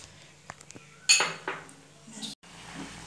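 Dal being stirred in a pot with a spoon, a few clinks and scrapes of metal against the vessel, one louder knock, then a brief gap and soft handling sounds.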